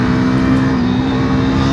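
A KTM Duke 390 motorcycle with a 373cc engine, accelerating hard up close, a loud, steady, dense engine roar with a held pitch over a short burst.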